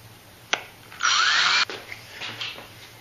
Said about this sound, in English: take the ends of the plexiglass and we're going to drill a hole through it